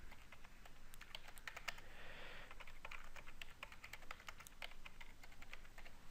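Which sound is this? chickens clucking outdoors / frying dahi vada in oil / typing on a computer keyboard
typing on a computer keyboard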